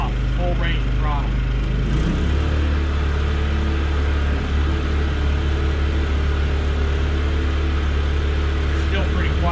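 A WEN 56203i 2000-watt portable inverter generator running with eco mode off at full throttle, giving a steady, even engine hum with low rumble throughout, close by and continuous.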